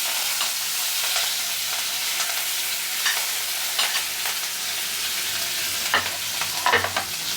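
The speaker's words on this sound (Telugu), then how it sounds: "ఇప్పుడు అదే నూనెలోనైతే మనం ఉల్లిపాయ, పచ్చిమిర్చి అవన్నీ వేసుకోవాలన్నమాట" Green chillies frying in the leftover oil from fried eggs for an egg tomato curry, a steady close sizzle and crackle with intermittent spatula stirring and scraping that grows busier toward the end.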